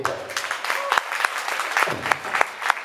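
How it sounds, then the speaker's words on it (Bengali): An audience at a Bangladeshi Victory Day annual cultural program in New York claps together, a dense, lively patter of applause close by with a voice faintly underneath. "একটু তালি দেন জুড়ে"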